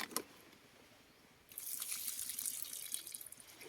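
Tap water running while seafood is rinsed in a sink, starting after a faint drip and a brief quiet spell, then a steady close splashing stream that continues to the end.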